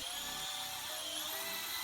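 Corded half-inch drill with a paddle stirring thin-set mortar for Saltillo tile, a steady high whine running continuously and close throughout.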